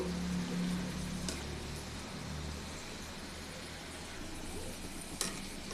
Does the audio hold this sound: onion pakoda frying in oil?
yes